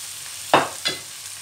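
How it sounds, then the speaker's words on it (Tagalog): Tomatoes and green chili sauté in a pan: a soft, low background sizzle broken by two brief, louder scraping stirs about a third of a second apart. "ilagay na natin ang ating kamatis at ang ating green chili para maigisa na rin"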